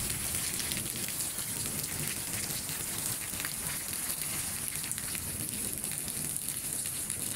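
Midday rain in Pabna, Bangladesh, falling steadily on surfaces, a dense, loud, unbroken patter that holds an even level throughout.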